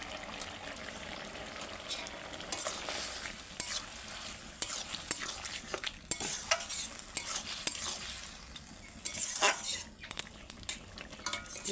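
Bitter gourd and morola fish tipped into a pan with potatoes and stirred, giving a quiet, continuous sizzle with scattered soft scrapes and clinks of a spoon against the pan.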